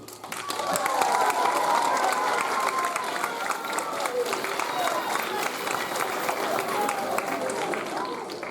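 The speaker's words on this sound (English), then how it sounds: "Hold the applause" Audience applause fills an awards segment at a spring school band concert, a dense sustained clatter of clapping with some cheering and shouts, loud throughout and tapering slightly at the end.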